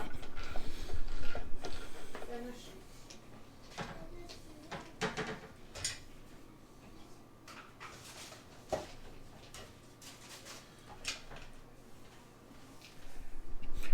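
A screwdriver backs out T10 Torx screws while an LED light board is removed, giving scattered small clicks and ratcheting ticks, close and fairly quiet, with pauses between turns.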